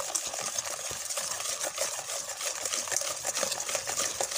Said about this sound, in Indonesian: Terus diaduk dengan rata biar semua bahannya menyatu